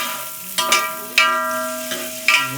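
Chicken being fried in an oversized cooking pot over an open fire, giving a steady sizzle with several sharp scraping stir strokes of a metal ladle against the pot, close and loud.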